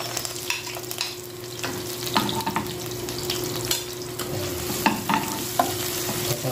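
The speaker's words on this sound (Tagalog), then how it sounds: "Lagyan naman natin ang sibuyas." Sliced onion hits a pan of frying garlic for chicken curry, giving a steady close hiss and sizzle with scraping stirring strokes and occasional clicks of the utensil against the pan.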